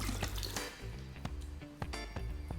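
Water poured from a bottle splashes and trickles across a car windshield, a close, steady wet hiss with brief splatter bursts and a low background hum.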